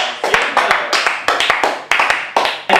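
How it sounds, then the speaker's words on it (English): A small group claps in uneven bursts to welcome a newcomer, the claps loud, close and choppy, with no talk over them. "Come on, give him a big round of applause."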